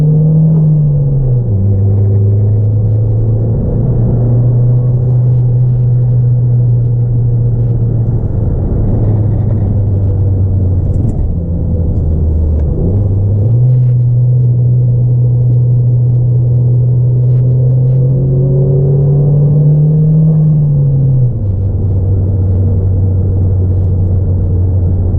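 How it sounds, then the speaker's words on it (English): A 2014 Chevy Cruze Eco with a cold air intake drones steadily while being driven, a loud low engine rumble that drops and rises in pitch with gear changes, with no talking. "love the noises you get from this thing with that cold air intake"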